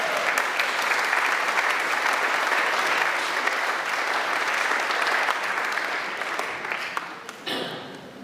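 A congregation at a December church service breaks into applause after a Christmas carol, a full, steady round of clapping that carries evenly before fading away over the last couple of seconds.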